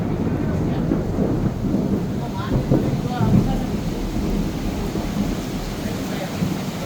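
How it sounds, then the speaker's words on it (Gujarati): Low rumbling thunder rolls over a steady wash of summer rain in Gandhinagar, with muffled voices now and then in the background. "વીજળી કડાકા ભડાકા સાથે વરસાદ"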